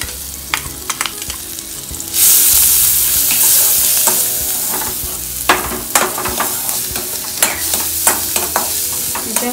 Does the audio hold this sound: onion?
yes